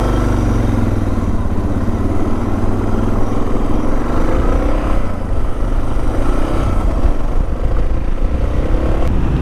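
A motorcycle rides along a road in America, its engine a loud, continuous rumble with shifting pitch as it accelerates, mixed with heavy wind noise.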